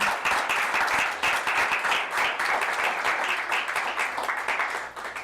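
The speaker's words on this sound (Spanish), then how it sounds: "le brindamos un aplauso a Cristo" Church congregation applauding together during a service, a steady wash of many hands clapping that holds for the whole stretch and eases slightly near the end.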